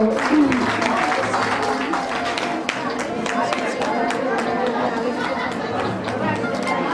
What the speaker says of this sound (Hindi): जोरदार तालियां राखी धने जी के लिए